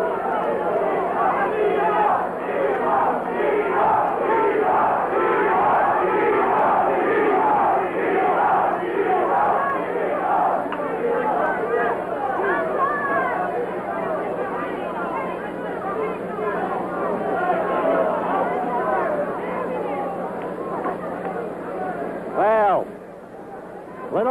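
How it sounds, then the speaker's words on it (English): Boxing arena crowd at a middleweight bout, a steady roar of chatter and shouting swelling through the seventh round, loud and continuous, with a brief dip near the end. "Little noise in the arena now. Not so quiet."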